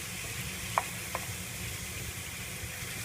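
Sausage and kale frying in a pan for penne pasta give off a steady, soft sizzle, with two brief clicks of a spoon stirring against the pan. No one speaks.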